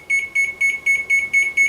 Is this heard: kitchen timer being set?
yes